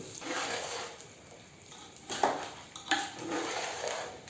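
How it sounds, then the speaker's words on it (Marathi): Homemade mango pickle is stirred and mixed in a vessel, with soft scraping and clinking bursts that rise briefly near the middle and again toward the end, fairly faint and close. "असं मिक्स करायचं, चांगलं ढवळून घ्यायचं आणि सारखं करून ठेवायचं, एक लेवल करून ठेवायची. आता याला ढवळते."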